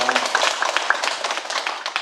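A brief patter of clapping rises from the audience at a Buddhist dharma talk, a few quick claps mixed with a speaking voice and murmurs.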